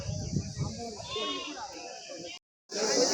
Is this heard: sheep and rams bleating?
yes